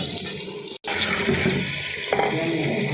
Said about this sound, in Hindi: ये इसमें थोड़ा सा पानी डाल देते हैं, पानी को बॉयल आने देंगे